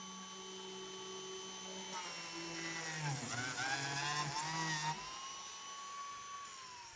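Biscuit joiner cutting a biscuit slot into a board hanging off the edge of a bench, a steady motor whine that dips in pitch as the blade bites into the wood for a couple of seconds before recovering.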